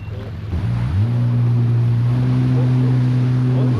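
A jet ski engine on the water in Albania revs up and settles into a loud, steady drone at close range, its pitch stepping up once before holding level, with a little talk mixed in.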